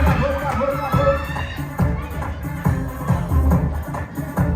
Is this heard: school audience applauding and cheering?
yes